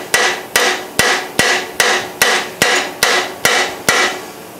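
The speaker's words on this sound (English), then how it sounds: "let's see if I can tap on this thing a little bit and make it come out of there" Ten evenly spaced, sharp hammer taps ring out on an HDPE plastic mold held in a metal vise, each strike loud and close with a brief ringing decay, no talking.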